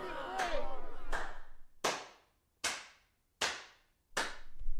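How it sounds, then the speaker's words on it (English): A lone audience member clapping slowly in a theatre-style room, several sharp, spaced single claps ringing out distinctly against near silence, following a brief murmur of voices at the start. "there's one guy over there who's just clapping"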